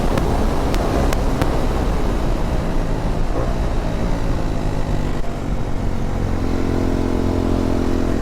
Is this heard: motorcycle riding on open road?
yes